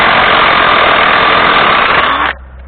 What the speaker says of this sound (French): Avec une batterie de 4 ampères sur la perceuse, enfin la péteuse Parkside, j'ai réussi à l'avoir.